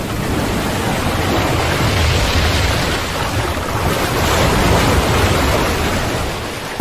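Ocean surf breaks continuously on a shore in a wide, loud rush of foam and wind, swelling and easing without pause.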